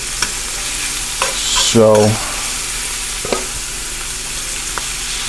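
Chicken hearts sizzle in a pan over high heat, a steady close frying hiss broken by scraping stirs and light clatters as they are moved around, with a brief word spoken over it.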